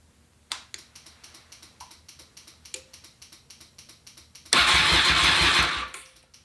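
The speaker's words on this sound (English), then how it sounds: "Let's hit the starter, see if we get power that way." Starter button tapped on a Honda VFR 800 motorcycle, giving a string of small clicks before the starter motor cranks the engine in a loud, steady whirring burst of about two seconds, close up.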